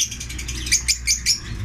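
Small birds chirping in a flight cage, a rapid string of high, bright tweets in short bursts, close and fairly loud, with no talking.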